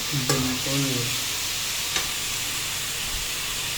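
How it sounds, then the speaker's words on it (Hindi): Cauliflower fries in a pan with a steady close sizzle and a couple of sharp clinks from stirring; a brief voice-like tone sounds near the start. "गोभी फ्राई करते हुए"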